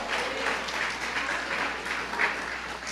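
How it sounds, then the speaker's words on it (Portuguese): Church congregation applauding during a service, a broad sustained wash of many hands clapping together in the room, with a faint low hum beneath. "Uma salva de palmas ao Senhor."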